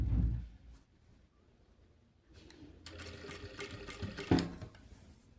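A sewing machine stitches puff sleeve fabric at a quarter-inch gap, running in a steady whirring burst after a quieter pause and a brief low thump at the start.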